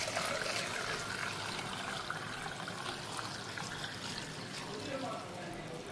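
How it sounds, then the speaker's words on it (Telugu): Boiled leaf water is poured and strained, a steady broadband trickle and splash running continuously at moderate level without pause. "చల్లారిన తర్వాత వడపోసుకోండి అమ్మా నీళ్ళు"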